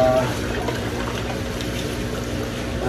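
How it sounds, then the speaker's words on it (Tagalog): Water poured out of a styrofoam guppy tub, a continuous splashing, trickling flow close by, steady throughout with a faint hum underneath. "Tapon na natin yung mga tubig."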